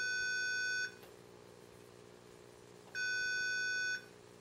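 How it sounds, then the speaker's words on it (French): A prototype electronic doorbell gives two steady, evenly pitched electronic tones, each lasting about a second, separated by a short pause and standing alone over a faint background hiss. "j'ai mon prototype de sonnette électronique"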